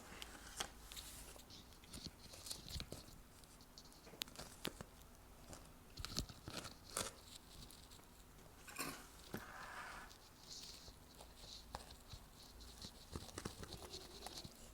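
Crisp puffed rice cake topped with cream cheese being bitten and chewed close up, with irregular crunchy snaps and crackles spread over a quiet background and no talk.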